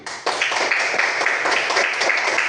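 Classroom of students clapping together, a thick, steady round of applause that starts abruptly and holds at an even level throughout.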